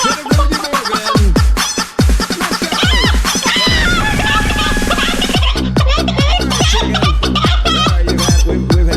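Chickens in the Panzer Dragoon Saga game cluck loudly and repeatedly in quick, jerky bursts, with a rooster-like crow mixed in over dense game sound that keeps going throughout.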